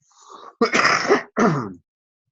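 A single throat-clearing cough followed by a second harsh burst, close and fairly loud, with a brief quiet stretch after.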